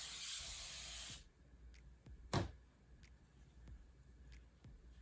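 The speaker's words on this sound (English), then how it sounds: "I like to have my water bottle with me and spray." A hand-pumped water spray bottle misting hair on wash day, a short sharp burst of spray near the middle over a quiet room with a few faint clicks and handling noises.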